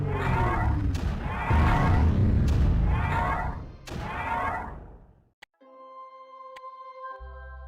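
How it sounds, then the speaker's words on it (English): Mortars firing in the video game Creeper World AE: a run of heavy, booming thumps, four or five in a loose rhythm, loud and close, before a brief drop into a quieter electronic tone. "that one mortar is holding off all this. So mortars are key."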